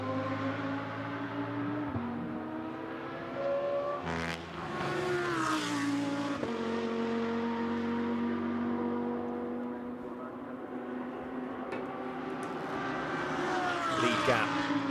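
A GT2 race car sweeps through the Parabolica right-hander at Monza, its engine note rising and falling through the corner with sharp pitch shifts, loud and steady over a continuous trackside roar.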